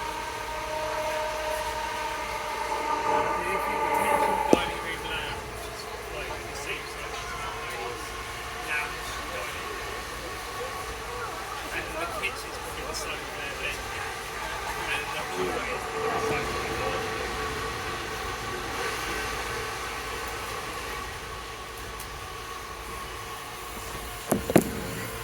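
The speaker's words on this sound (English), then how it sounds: "One of those class 376 trains." A class 376 electric commuter train rolls past steadily with a humming motor whine and rail rumble, a short horn sounding near the start and distant talk underneath.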